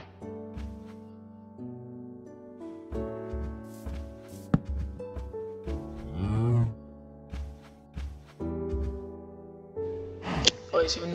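Cows mooing in the Minecraft video game, repeated short bovine calls over game background music, loud and close, with no talk over them.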